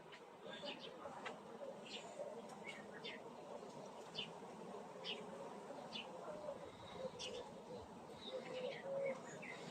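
Honey bees swarm around a queen just freed from her cage, a steady close buzzing drone that runs throughout, with faint bird calls in the background.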